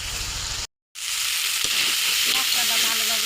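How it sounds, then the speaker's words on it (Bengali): A spice paste (masala) for a taro-stolon and dried-fish curry sizzles in a pan while being stirred, a loud continuous frying hiss broken by a brief moment of silence, with occasional scraping clicks. "মশলাটা এখন ভালোভাবে কষিয়ে নেব।"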